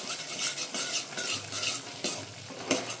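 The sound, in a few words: roasting tomato and chickpea paste in a pot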